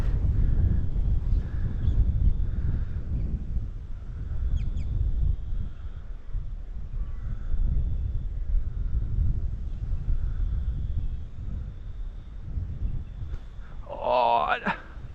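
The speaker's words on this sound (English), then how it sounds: "It's quite windy." Gusty wind buffets the microphone beside a small creek, rumbling low and loud in uneven surges throughout, with a brief voice-like squawk near the end.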